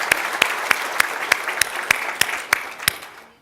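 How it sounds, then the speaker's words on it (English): Audience applause at a client economic outlook event, strong, rhythmic unison clapping with sharp, evenly spaced claps over a dense background of hands, fading out at the end. "That deserves an applause."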